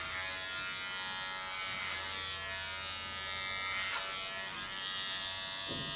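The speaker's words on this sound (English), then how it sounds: "Getting to my clipper." An electric hair clipper buzzes steadily through a pixie-cut session at a salon, a constant humming drone with slight changes in pitch as it works through the hair.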